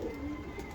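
A Nasal K breed pigeon of the old Sialkoti line gives a short, close, low coo while being held up and shown, with no talking over it.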